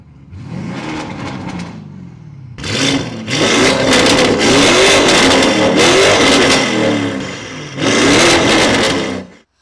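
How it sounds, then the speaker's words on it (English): A 2023 Lamborghini Urus with Novitec tuning revs hard and loud up close: a sharp opening blip, a pause, then a sustained roaring rev with rising and falling pitch, and one final burst before cutting off. "Let's rev it. Listen to the sound."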